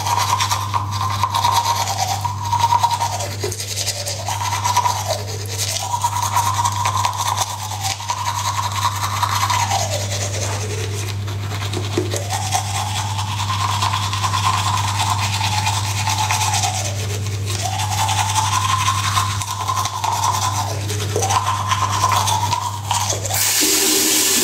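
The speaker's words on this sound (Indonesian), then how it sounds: "lama banget ya gue sikat giginya ya" Teeth being brushed with a toothbrush: continuous close scrubbing strokes in a steady back-and-forth rhythm, loud and alone over a constant low hum.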